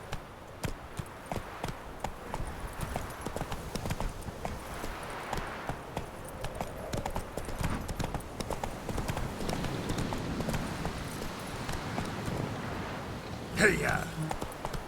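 Roach, the horse in the video game The Witcher 3: Wild Hunt, gallops with a steady, rhythmic clip-clop of hooves throughout, fairly close and continuous.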